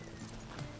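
Horse hooves clip-clop steadily in Red Dead Redemption 2, a spotted horse trotting close by under a continuous bed of game ambience, with no talking.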